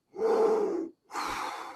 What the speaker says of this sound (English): And then watch for shallow breaths.